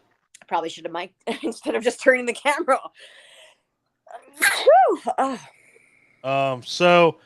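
A single sharp sneeze bursts out mid-conversation between men casually chatting indoors, loud and close, with talk before and after it.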